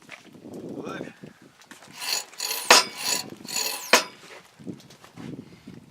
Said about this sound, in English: tighten my lock ring